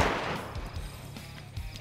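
Gunfire in the survival game DayZ: a cluster of sharp pops and thuds at moderate volume, with a few more spaced shots trailing off, sounding somewhat distant.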